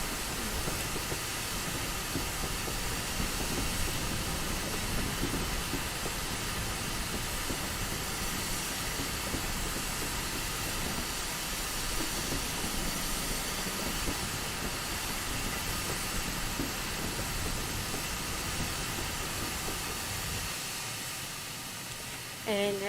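A GWR 8000 steam locomotive running in Train Simulator 2021, giving a continuous hissing, rumbling rail noise with a steady chuffing texture throughout, fairly constant in level, with faint talk at times.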